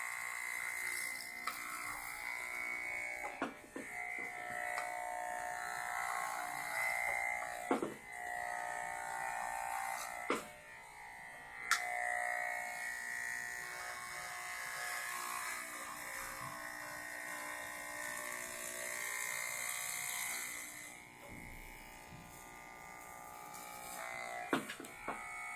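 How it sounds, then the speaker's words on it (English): Electric hair clippers buzz steadily while shaving a person's own head, a continuous close whine with brief dips and clicks as the blade moves and lifts, and no talking. "if I can shave my own head in front of the world."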